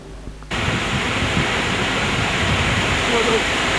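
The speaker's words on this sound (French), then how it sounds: "C'est cette magnifique cascade d'Agoumatia." Ikpa waterfall at Danyi Apéyémé in Togo, loud steady rushing roar of falling water that starts abruptly and then holds constant and close.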